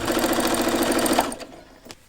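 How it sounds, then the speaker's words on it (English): A serger runs fast and steady, stitching seams of cotton duvet-cover fabric for a pair of high-waisted shorts, its rapid mechanical whir loud and close before stopping abruptly, followed by a quiet click. "Serge and stitch together."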